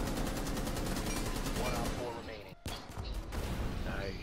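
Rapid gunfire from Rainbow Six Siege, a close, loud burst of automatic shots in quick succession, a brief gap, then more firing.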